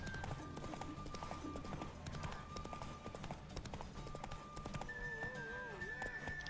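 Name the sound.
horse Roach running in the video game The Witcher 3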